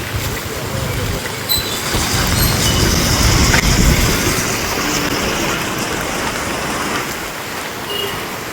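Steady broadband hiss of heavy rain falling in Jaffna, Sri Lanka, near a temporary vegetable stall, continuous and fairly loud throughout, with a low rumble underneath.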